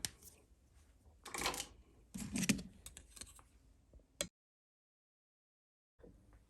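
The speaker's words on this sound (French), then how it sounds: "Et ensuite, je vais découper ça." A small resin-craft cherry blossom flower is cut out by hand, with a few quiet, close snipping and clicking bursts followed by a short silence, with no talking.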